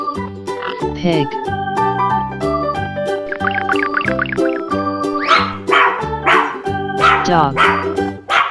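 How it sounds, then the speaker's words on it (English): A dog barks repeatedly in quick yapping bursts, loud and near, layered over an upbeat children's farm-animal nursery tune. "Dog."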